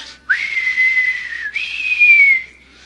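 A person whistles two long, loud, close notes in a row, imitating a crowd whistling; no other sounds around it.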